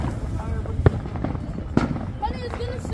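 Fourth of July fireworks: two sharp, loud pops ring out a second apart amid crackling and crowd noise, with people talking close by between the bursts.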